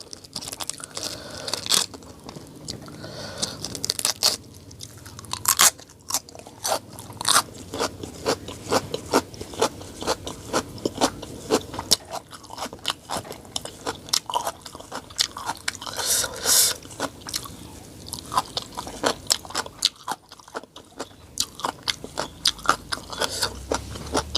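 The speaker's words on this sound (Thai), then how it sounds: "กระลำม่วงนี่กรอบดีเดียว" Close, loud crunching bites and chewing of raw purple cabbage in an ASMR eating session, crisp snaps repeating in an irregular rhythm throughout with short pauses between mouthfuls.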